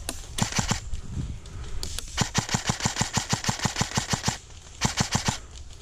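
Automatic gunfire in the game Mad Max sounds in rapid, evenly spaced bursts of sharp, loud shots. Short pauses break up the long rattling strings of fire.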